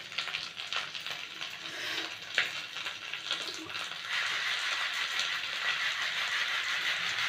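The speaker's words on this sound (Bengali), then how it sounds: "এইবার দিলাম কাঁচা লঙ্কা" Green chillies hit a hot pan and fry with a close, crackling sizzle that swells and stays steady in the second half, a few sharp pops and stirring clatters near the start.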